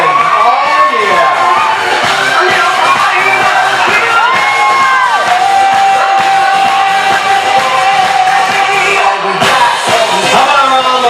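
A large live crowd at an event roars with sustained cheering, whoops and shouted yells, loud and close throughout about eleven seconds, with a few high whistling cries rising above the din.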